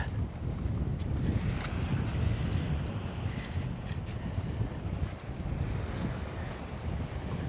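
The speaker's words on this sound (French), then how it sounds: "Ah, il y a un peu de vent, hein." Wind gusts across the microphone at a seaside campground near a marina at Bocca di Cecina, Italy, in November, a constant low roaring rumble with faint surf-like wash and no talk.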